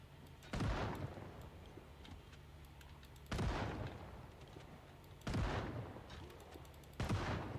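Four loud gunshot blasts from Project Zomboid, spaced about two seconds apart, each a sharp broadband crack with a lingering tail over a steady low hum.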